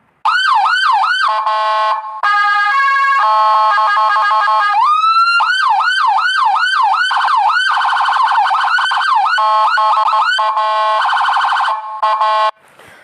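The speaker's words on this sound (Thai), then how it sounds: "เวลาผมขับรถพยาบาลผมก็เปิดเสียงเนี้ย" A loud, close ambulance siren cycles through several patterns: rising-falling wails, rapid yelps and two-tone hi-lo bursts, with brief pauses between modes.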